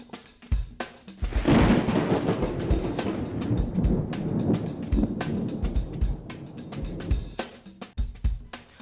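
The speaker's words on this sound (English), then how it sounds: "More thunder and more lightning." Thunder from a movie trailer rolls in as a loud, swelling rumble that builds after a second, holds for several seconds and then fades, with sharp clicks and thumps punctuating the start and end.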